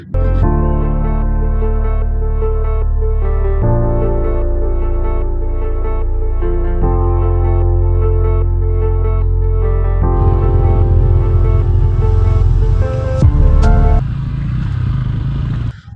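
A motorcycle engine drones on a mountain road from Zuluk down toward Rangpo in East Sikkim, a loud, steady low hum that holds its pitch, then roughens and shifts near the end as the ride changes pace.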